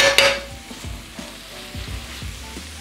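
Garlic-marinated shrimp and other ingredients sizzling steadily in a hot pan, with a spoon stirring and scraping in repeated strokes, close and moderately loud with no talking.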